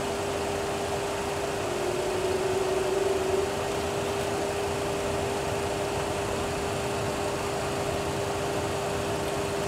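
Boeing 737 Classic engines spool up to takeoff thrust on a runway at Antalya Airport in a strong crosswind, making a steady, muffled broadband roar with a faint constant tone underneath, unbroken throughout.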